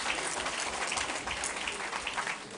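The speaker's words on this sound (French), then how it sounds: "Un bel exploit, ça mérite tous vos applaudissements." Audience applause during a French stage revue show, a steady dense wash of clapping from a crowd, continuous and fairly loud throughout.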